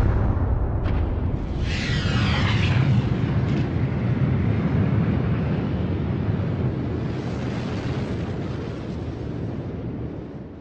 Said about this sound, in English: Massive stars end explosively.